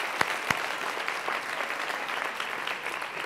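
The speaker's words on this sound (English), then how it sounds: "an applause?" Steady applause from a lecture audience greets a chef at a leadership talk, opening with a couple of sharp, close claps before settling into a dense, even wash of many hands clapping at once.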